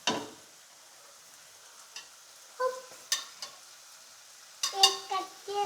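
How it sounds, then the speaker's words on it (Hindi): Pre-sautéed vegetables stirred into dry-cooked chicken in a pan, a faint low sizzle punctuated by several sharp metallic clinks and scrapes of the spoon. "अब हम इसके अंदर वेजिटेबल्स डालेंगे जो हमने पहले से सोते करके रखी हुई थी।"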